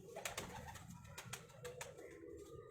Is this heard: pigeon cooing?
yes